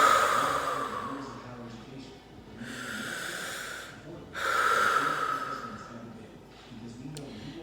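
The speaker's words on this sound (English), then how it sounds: "I'm going to take a couple deep breaths." Someone seated on the floor takes a couple of deep breaths, slow close inhales and exhales with loud airy rushes, repeated in a calm rhythm.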